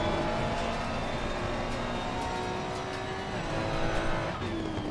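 A race car in Assetto Corsa Competizione at Zandvoort holds a steady, loud engine drone under throttle, with a continuous whine throughout and a faint tire squeal toward the end, with no voices.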